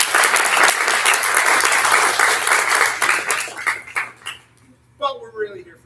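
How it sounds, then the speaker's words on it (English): A crowd applauds athletes at a college lacrosse commitment event, dense steady clapping for about four seconds that thins into scattered claps before a voice begins speaking. "So I want to start with a round of applause for you guys."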